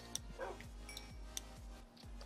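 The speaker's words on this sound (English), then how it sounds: "Come here, doggy." A dog in a Minecraft-style survival game gives a few faint, short barks and yips over a quiet background with a repeating low mechanical sweep.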